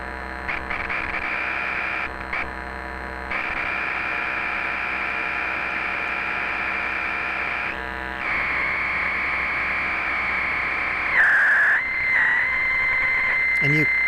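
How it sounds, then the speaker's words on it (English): Harsh, buzzing electronic tones come from a Folktek Conduit patched with alligator clips, a sustained loud drone with abrupt shifts and a pitch warble near the end. "you can get some really harsh tones with Conduit"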